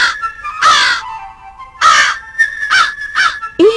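A crow caws in a series of harsh, loud calls: two long caws, then quicker shorter ones, over a faint steady background tone; no voices are heard.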